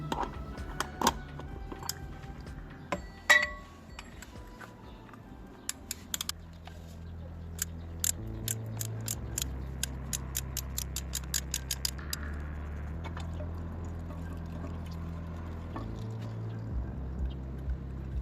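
A ratchet with an extension and oil filter tool works loose the oil filter on a Suzuki GSX 600/750 F Katana, giving bursts of quick rapid clicks between scraping and handling noises, close and fairly faint.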